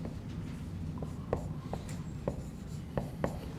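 During a math lecture, chalk taps and scratches across a board in short, irregular strokes, set against a low, steady room hum.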